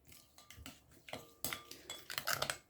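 Utensil stirring a food mixture in a bowl or pan for a Ramadan iftar meal, giving a run of light clinks and scrapes with an uneven rhythm, close and moderately loud, with no voice.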